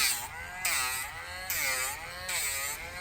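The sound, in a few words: Dremel rotary tool grinding nails during a nail trim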